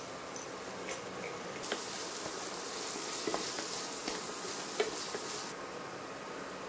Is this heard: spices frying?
yes